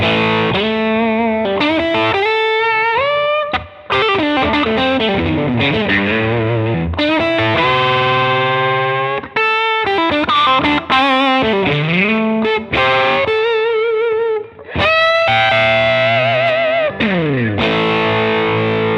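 An electric guitar played through a gritty OCD overdrive pedal, sustained distorted chords and bending lead lines, loud and continuous with brief gaps between phrases.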